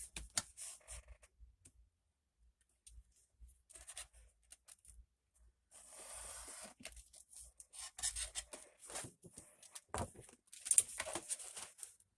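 Scissors snip and slice through paper being trimmed for a simple storage folder, giving quiet, close, irregular cuts and rustles with short pauses between bursts.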